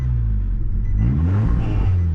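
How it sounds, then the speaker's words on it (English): A turbocharged Nissan Altima engine idling roughly, then given throttle: a close, low rumbling note that rises unevenly and stumbles rather than revving cleanly. "Giving it throttle, it should actually just stall."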